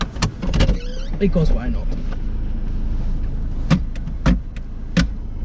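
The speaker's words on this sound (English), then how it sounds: "it's not really raining, let's put the roof down" A car's electric convertible roof motor whirs steadily as the top is lowered on a drive in light drizzle, with a few clicks and clunks near the end, while a person speaks briefly over it.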